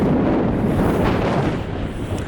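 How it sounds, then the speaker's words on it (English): Steady, loud wind buffeting the microphone while cycling on a windy day in Mallorca after recent rain, a dense continuous roar with no gaps from start to finish. "It's pretty windy today."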